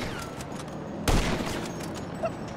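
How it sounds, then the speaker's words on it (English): Gunfire in GTA V Online, a mugger shooting at the player: one loud broadband burst about a second in, decaying over a busy game background, with a smaller pop near the end. "The mugger's shooting me!"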